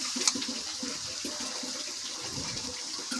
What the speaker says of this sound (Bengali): এবার একটু জল দেবো অল্প করে